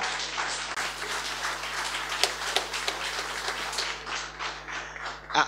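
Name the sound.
audience applause for award winners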